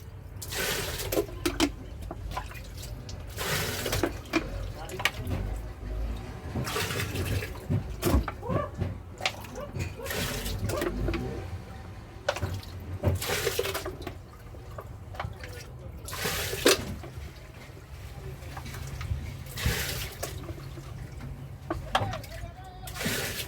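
Tap water runs and splashes while ice trays are filled, a steady trickle with intermittent louder gushes and drips, nearby, with people talking in between.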